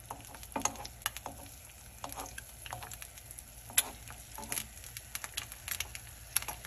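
A turkey egg frying in a pan on the stove for a breakfast sandwich, giving a quiet, steady crackle with scattered sharp pops and ticks throughout.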